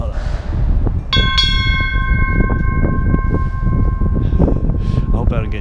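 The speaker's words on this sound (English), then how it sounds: "you saw me ring the bells up there" Church bells ring in the bell tower of Saint Sophia's Cathedral in Kyiv, sharp metallic strikes with long sustained tones layered over steady wind and outdoor noise, loud and close.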